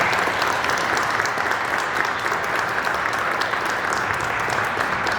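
Steady, dense audience applause at an award ceremony in an art museum in Celaya, a uniform wash of many hands clapping without pause throughout.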